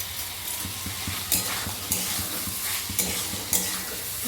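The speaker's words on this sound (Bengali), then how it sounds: "যে আলুটা ভেজে রেখেছিলাম সেটাও এর ভেতর দিয়ে দেব" Soya chunks and fried potato being stirred in a hot pan make steady scraping strokes over a soft sizzle, with a few louder clanks of the spoon against the pan and no talking.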